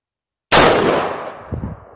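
A single sharp rifle shot from a 22 Nosler build at an outdoor range cracks loudly after a half-second of silence, its report decaying with a rolling echo and a short second thump near the end.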